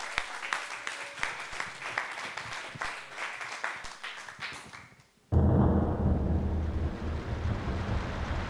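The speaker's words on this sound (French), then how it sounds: "Allez, on applaudit encore." An audience at the SlamSol slam poetry festival claps in a dense, sustained applause that gradually thins and fades over about five seconds, then gives way to a low, rumbling, wind-like background noise.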